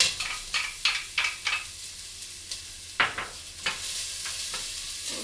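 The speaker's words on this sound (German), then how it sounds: "gebe jetzt meine Zwiebeln rein. Das wird jetzt einmal laut, glaube ich." Chopped onions tipped into a hot pot for pea soup, sizzling and frying steadily while being stirred, with several scraping clicks of a utensil against the pot, close and moderately loud, no talking.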